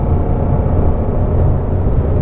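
Shelby GT350R Mustang engine with a six-speed Tremec manual, a dense, steady low rumble heard from inside the car, loud and continuous throughout with no talk over it.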